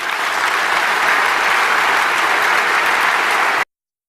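A crowd gives speaker Jeroen a big round of applause after a talk, loud, dense clapping sustained evenly for a few seconds before cutting off abruptly.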